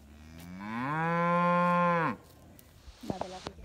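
A single cow gives one long, loud, close moo lasting about two seconds on an outdoor farm on a bright winter day, followed by fainter cattle sounds and small noises.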